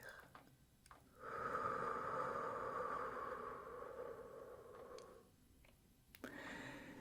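A slow, deep breathing exercise, close and soft: a long drawn breath, a pause, then a sustained airy exhale lasting several seconds, followed by another breath.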